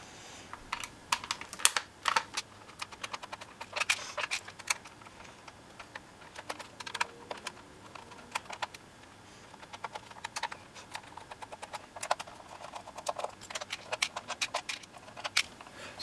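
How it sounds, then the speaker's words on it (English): Small plastic clicks and taps come in irregular clusters as nine screws are taken out of the back of an NCE model railway handset, close and fairly quiet, with no talking. "what you'll notice on the back are 9 screws that are all there, all need to be removed"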